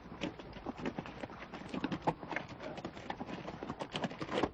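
Mules or horses walk a Grand Canyon trail, a busy run of clip-clop hoof strikes close by, with a faint voice in the background.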